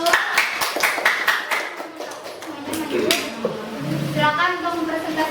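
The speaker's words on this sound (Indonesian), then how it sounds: "mari kita beri tepuk tangan dulu untuk kelompok 1" Classroom applause for a student group about to present a school project, a burst of sharp hand claps from several pupils early on, fading as a teacher and students talk in the room.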